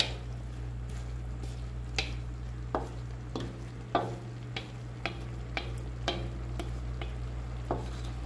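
Pechay (bok choy) cooks in a pan for pancit. A low steady hum sits beneath soft sizzling, and irregular clicks and squishes recur every second or so as the greens are stirred.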